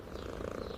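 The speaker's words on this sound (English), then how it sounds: "This one is purring." A kitten purrs in a soft, steady, low rumble, close and quiet, with no voices over it.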